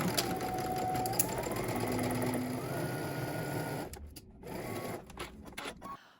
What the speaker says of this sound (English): then we're going to stitch it using 5/8 of an inch seam allowance